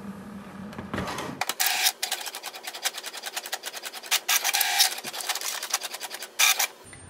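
An HP DeskJet 2720e printer prints a page: a steady run of rapid mechanical clicks and whirring carriage passes, with louder bursts of feeding and print-head movement, close and alone.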